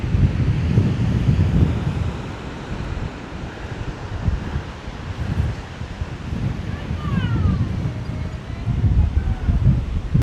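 Strong gusty wind roars steadily across the microphone on a stormy Lake Michigan beach, with rushing surf underneath and a faint voice briefly audible.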